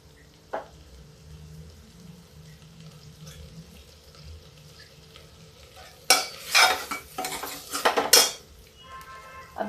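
Tuvar dal roasting in masala in a pan: a quiet stretch, then a burst of loud metal spoon scraping and clattering against the pot with sizzling underneath, close and irregular.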